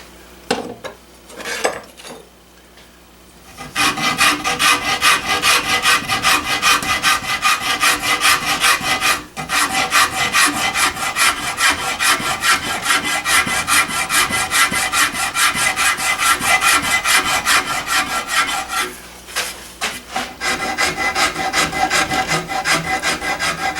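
A wooden gunstock panel is worked with a rasp, producing close, loud, continuous rhythmic scraping strokes that pause briefly midway and near the end.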